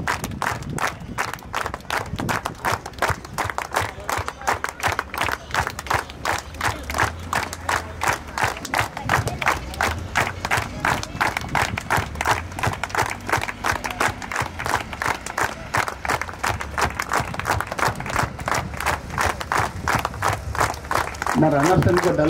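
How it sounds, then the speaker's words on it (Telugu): A large crowd at a 5 km run event claps together in steady unison, with sharp, evenly spaced beats running nonstop for the whole stretch, loud and close, with some voices and shouts mixed in. "అందరం కలిసి ఒక 75 సార్లు క్లాప్స్ కొడదాం"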